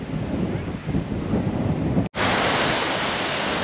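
Strong, freezing-cold wind roars across a beach at Newborough, Anglesey, in North West Wales, a dense buffeting rush blended with surf, briefly cutting out before resuming at full force.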